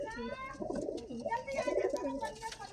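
Soft, repeated cooing from a female high flyer pigeon, low and throaty, rising and falling in short phrases with faint background murmur.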